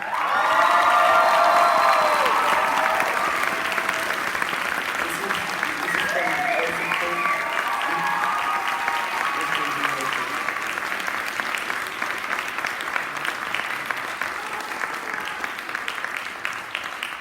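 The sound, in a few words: audience applause and cheering at graduation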